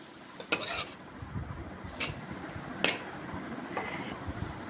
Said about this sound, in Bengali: যে শাকগুলো ভেজে নিচ্ছি একটু সেদ্ধ হচ্ছে নেড়ে নেড়ে এমনি করে দেখুন